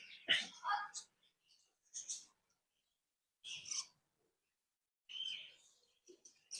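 Near a cage, a parakeet gives a few faint, short, scratchy chirps in separate bursts with quiet gaps between them.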